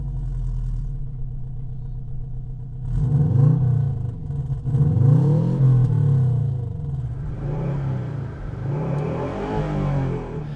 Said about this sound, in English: Hit the power switch and you can also hear they reworked the exhaust system.